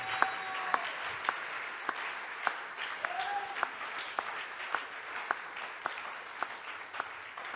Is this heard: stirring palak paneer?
no